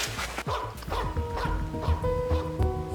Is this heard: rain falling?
no